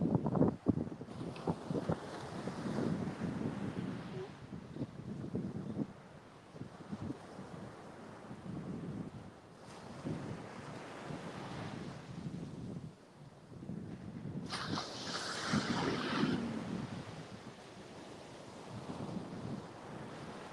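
Surf rolls in at Panama City beach as a steady wash of breaking waves, mixed with heavy wind buffeting the microphone. A brighter surge of spray comes near the end.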